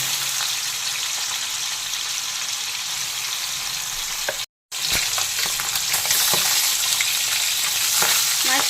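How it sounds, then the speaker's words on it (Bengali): Katla fish pieces shallow-frying in white oil in a pan, a steady loud sizzle and crackle throughout with a brief dropout midway, no talk. "প্রথমে মাছগুলোকে হালকা ভেজে নেব।"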